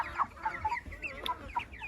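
Chickens cluck in a steady stream of short, overlapping calls, fairly close, with soft farmyard rustle underneath.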